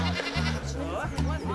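A goat bleats loudly and close by in a farmyard, a long wavering cry broken into several pulses, over a steady background.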